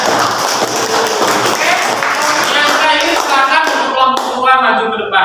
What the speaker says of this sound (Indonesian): Silakan beri tepuk tangan pada teman-teman.